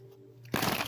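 A deck of tarot cards is shuffled close up: a sudden, dense riffling burst that starts after a quiet hum and carries on to the end.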